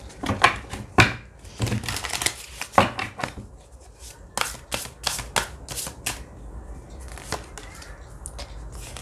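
Tarot cards are handled and squared up at close range, making a run of crisp riffling and tapping snaps that are dense early and then turn into sparser, sharp flicks and slaps.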